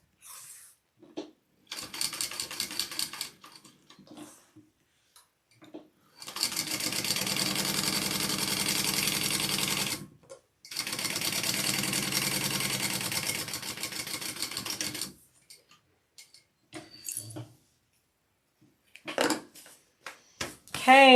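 A sewing machine stitches a Brunella bag from a Shamballa Bags pattern in several long runs of rapid, even whirring, with short bursts and pauses between them and some quiet talk in the gaps.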